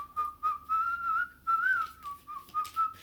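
A person whistles a wavering, tuneful melody in short repeated phrases, close and clear, alone with no talking.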